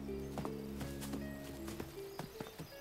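Hooves of a saddled horse clip-clop in a quiet countryside setting, a handful of distinct, fairly close strikes in an uneven walking rhythm over faint background hum.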